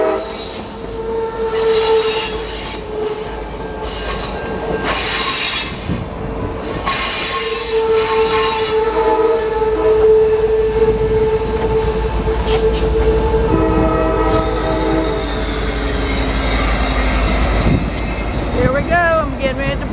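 Amtrak Piedmont #73 passenger train passing through Cary, North Carolina, with loud sustained wheel squeal over the rumble of rolling cars, a brief horn-like tone, continuous and close throughout.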